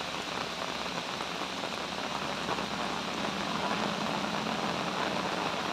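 Steady rain pours down at a home garden with lime trees and grass, a dense, unbroken hiss of drops striking surfaces nearby, constant in loudness throughout, with no voices.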